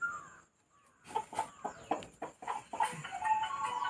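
A native desi chicken in an Indian village clucks in a quick run of short, sharp calls, close and fairly quiet, with faint background sounds and no talking.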